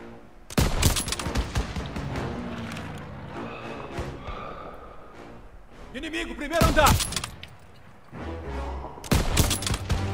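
Bursts of gunfire in a World War II first-person shooter game (Call of Duty WW2 on PS4), sharp loud shots near the start, around the middle and again at the end, with players talking throughout.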